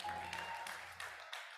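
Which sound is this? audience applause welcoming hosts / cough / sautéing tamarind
audience applause welcoming hosts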